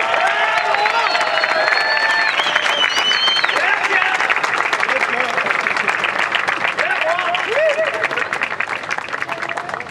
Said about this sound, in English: Huge round of applause, ladies and gents.